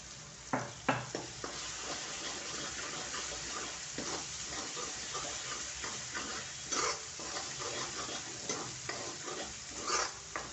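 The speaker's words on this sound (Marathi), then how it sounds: "चांगलं तेल सुटेपर्यंत आपल्याला परतायचं आहे" Onion-garlic masala for Kolhapuri misal sautéing in oil, a steady broad sizzle with repeated scraping stirs of a spoon against the pan, loud and close, with no talking.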